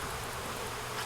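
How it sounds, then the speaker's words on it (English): Honey bees buzz around a hive box in a dense, steady drone with no breaks, close and fairly even in loudness for the whole brief moment. "the bees are going into the box"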